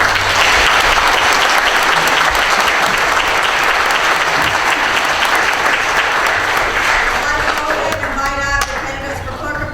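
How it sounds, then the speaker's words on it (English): An audience applauds candidates at a local meeting, dense sustained clapping from many hands that stays loud throughout and thins slightly near the end. "Let's give these candidates a round of applause."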